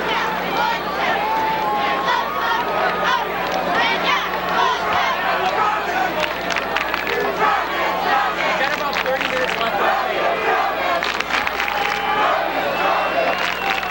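Large crowd in the stands at a high school football game, a steady roar of chatter and cheering that fills the whole stretch under a sports announcer's commentary.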